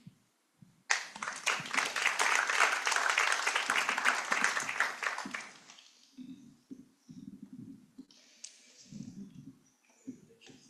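Sustained audience applause closing a session at a global civil registration and gender symposium, a dense burst of many hands that swells, holds for about five seconds, then fades into scattered low voices and movement.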